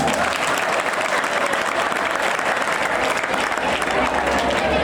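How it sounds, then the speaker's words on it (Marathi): An award-ceremony audience of rural students and staff claps for themselves, a loud, continuous wall of applause that holds steady from start to finish. "तुम्ही एकदा स्वतःसाठी टाळ्या वाजवा."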